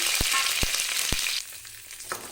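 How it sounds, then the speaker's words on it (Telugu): Slit green chillies dropped into hot oil in a kadai, giving a loud, dense, close sizzle punctuated by three sharp clicks, then settling into a quieter, steady frying hiss. "ఆయిల్ వేడెక్కిన తర్వాత చించి పెట్టుకున్న పచ్చిమిర్చిని వేసుకోవాలి"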